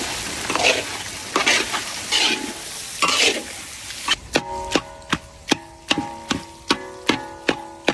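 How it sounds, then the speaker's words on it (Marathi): Turmeric and Kashmiri red chili powder stirred into a sizzling pan with crushed chili paste. Close scraping and frying sounds in the first half give way to a steady run of sharp, evenly spaced ticking clicks. "हळद टाकून घेऊ, काश्मीरी लाल मिर्च पावडर परतून घेऊ।"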